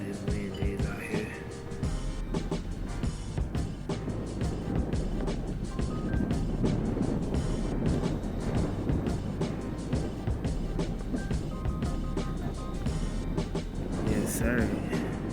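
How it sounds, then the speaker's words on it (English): Strong wind blows outdoors in a continuous heavy roar with buffeting gusts. A voice speaks under the noise at times. "Show y'all how bad this wind is out here."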